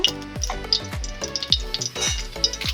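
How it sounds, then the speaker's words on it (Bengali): Whole spices including bay leaf and dried red chillies sizzle in mustard oil in a pan, with rapid popping crackles and sharp spits over a continuous close fry, no voices. "আমি এতে সব মশলাগুলোকে ভেজে নেব"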